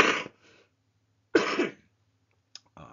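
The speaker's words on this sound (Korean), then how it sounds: "아직 기침이 아직 잘 안 나갔네요." A few coughs and throat-clearing sounds from a commentator with a lingering cough, in two main bursts about a second apart plus a brief final catch, close and fairly loud against a quiet room.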